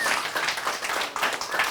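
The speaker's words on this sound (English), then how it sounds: "Applause for yourself." Audience clapping at a spiritual gathering, a brief, dense patter of applause from a crowd, with faint talk in the background.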